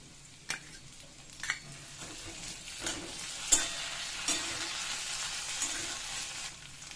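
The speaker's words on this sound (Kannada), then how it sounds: "ಈಗ ಶುಂಠಿ ಬೆಳ್ಳುಳ್ಳಿ ಪೇಸ್ಟ್ ಹಾಕೊಂಡ್ಬಿಡೋಣ" Ginger garlic paste sizzling in a hot pan, a steady frying hiss broken by several light scrapes and taps of a spoon stirring, close and moderately quiet.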